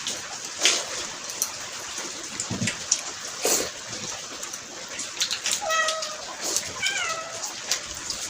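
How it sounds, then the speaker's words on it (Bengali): Indoor cats meow on a rainy day, two drawn-out, rising meows arriving near the end over a steady background hiss of rain, with no talking. "আজ বৃষ্টি পড়ছে আর বিড়ালগুলো বাইরে যেতেও পারছে না, তো ঘরেই বসে আছে আর এরকম চিল্লাচ্ছে।"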